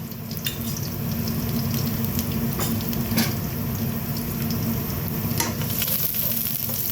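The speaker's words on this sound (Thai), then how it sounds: "จากนั้นเราก็นำเอากระเทียมลงไปผัด" Steady, loud sizzling of garlic frying in a hot pan, with scraping stir strokes and a low hiss continuing throughout.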